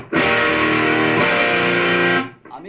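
Electric guitar through channel 1 of a Tony Boni Tree Mode tube drive pedal, one loud distorted chord ringing for about two seconds, then cut off, with no voices.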